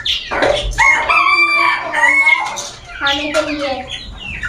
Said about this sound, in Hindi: ये चूजे मुझे काटने लगे हुए हैं